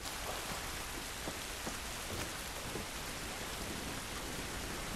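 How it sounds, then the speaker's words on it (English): In The Last of Us Remastered, a continuous downpour hisses across the scene, with a few sharper nearby drops and splashes standing out and no speech. "This rain ain't gonna do us any good."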